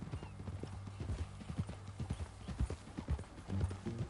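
Horse hooves clip-clopping in a steady uneven walking rhythm, fairly close, with a brief whinny and low background voices or movement around them.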